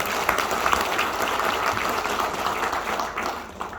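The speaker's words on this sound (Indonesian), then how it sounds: "Beri aplaus untuk Bapak Ibu masing-masing." Audience applause at a business event in a hall, a dense crowd of hands clapping steadily and loudly for a few seconds before starting to taper off.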